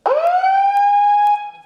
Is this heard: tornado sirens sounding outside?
yes